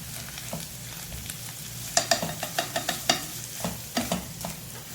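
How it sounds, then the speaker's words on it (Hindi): Chicken with soy sauce stirred and fried in a pan, a steady close sizzle broken by a quick run of sharp spatula scrapes and taps, no voices. "अब हम इसमें 1 टेबलस्पून सोया सॉस ऐड कर देंगे। मिक्स करेंगे इसको।"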